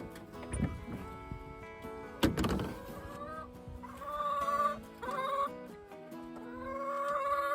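Four backyard hens clucking in and around an Igloo Cube plastic coop on a Scottish homestead croft, with repeated short calls and cackles close by over a steady outdoor background, no talking.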